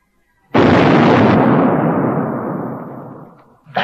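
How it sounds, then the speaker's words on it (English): A hand grenade bursts with a sudden, loud, close blast that rumbles and slowly decays over several seconds, heard alone. "That, mate, was a ruddy hand grenade."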